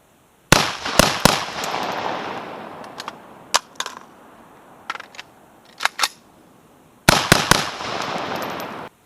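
A BRS47 rifle with a 10.5-inch barrel and a muzzle device fires a series of sharp, loud gunshots: a quick cluster of shots, then scattered single shots and another close burst, each ringing briefly.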